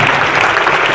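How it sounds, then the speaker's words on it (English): Audience applause at a live comedy talk, a dense steady wash of many hands clapping close and loud for the full second with no break. "Give us a great round of applause."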